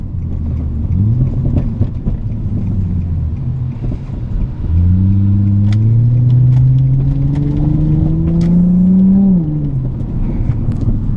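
An Infiniti G35 sedan with a Manzo exhaust revs up steadily, its exhaust note rising in pitch for several seconds before dropping back, loud and close, with an idling rumble before and after.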